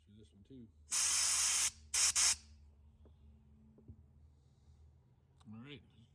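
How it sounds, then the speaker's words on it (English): Carburetor cleaner sprays onto the carburetor of a CF Moto Moose Tracker ATV that sat for three years: one long loud hissing burst followed by two short blasts, close up, with quiet handling noises and a faint breath afterward. "just gonna spray the shit out of this now"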